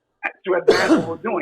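A single sudden sneeze bursts out in the middle of a man's conversation about street art, close and fairly loud, with talking just before and after it.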